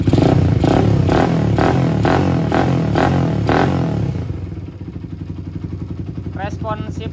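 Motorcycle engine fitted with a modified PE carburetor, revved up close and loud in a rhythmic series of throttle blips, then settling into a steady idle, with a brief higher rev near the end.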